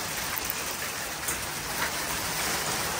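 Tiny hail-like snow pellets falling outdoors and pattering onto a mat, a dense, steady hiss of small impacts that runs evenly throughout, close and fairly loud, with no voices.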